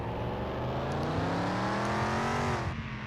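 A video game car engine drones steadily on a test track, its pitch climbing as it accelerates through a gear, then dropping sharply near the end as the next gear shifts in.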